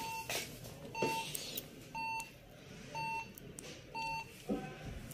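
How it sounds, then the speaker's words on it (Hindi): An HP ProDesk 800 G1 desktop computer sounds its five-beep error code while it fails to boot: a run of short, evenly spaced electronic beeps about a second apart, fairly faint over background hum. "5 दफ़ा बीप दे रहा है ये और ये बंद हो रहा है"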